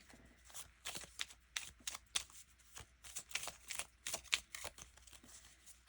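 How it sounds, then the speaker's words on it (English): Paper bill-budgeting envelopes rustle and slap together in quick, uneven bursts as they're shuffled up close. "And I'm just going to shuffle these up."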